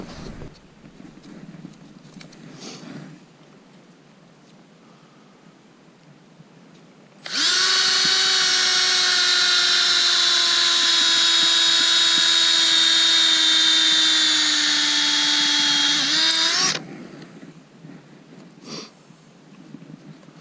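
A Milwaukee power drill whirs loudly and steadily for about nine seconds while drilling into a tree on a farm, before cutting off, with quiet outdoor background before and after.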